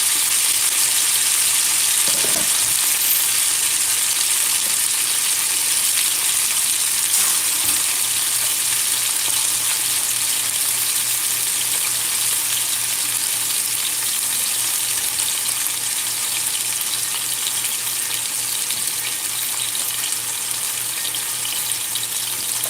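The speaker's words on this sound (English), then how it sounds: "The onion. We want to hear that sizzling." Loud, steady sizzling of onion and tomatoes frying in a pan, a constant crackling hiss that holds for a long stretch with no talking.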